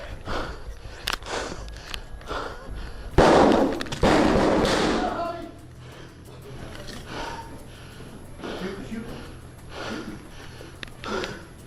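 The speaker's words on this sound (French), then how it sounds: "Malgré les coups de feu entendus depuis l'intérieur de la salle de classe" A couple of sharp, loud gunshots ring out inside a school building in Uvalde amid shouting and hurried voices, followed by tense talking.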